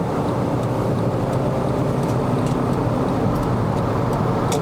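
A 2011 Honda Civic FD 2.0S driven in Malaysia, with a continuous, dense rush of engine and road noise heard from inside the cabin and no distinct rev changes.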